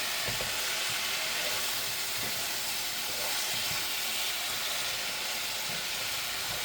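Ginger, garlic and turmeric fry in a hot pan with a loud, continuous close sizzle, broken by irregular scraping and stirring knocks throughout.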